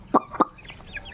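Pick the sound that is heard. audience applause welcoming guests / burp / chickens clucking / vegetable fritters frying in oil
chickens clucking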